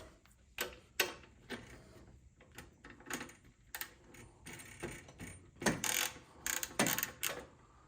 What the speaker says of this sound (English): Take our plug out here.